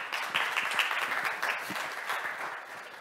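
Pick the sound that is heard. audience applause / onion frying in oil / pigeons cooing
audience applause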